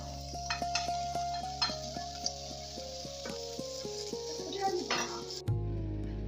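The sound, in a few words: vegetables frying and being stirred in a wok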